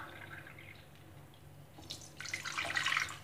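Water pours into a pot in a home kitchen for rasgulla syrup, a faint trickle that grows into a louder, splashing stream over the last second or so.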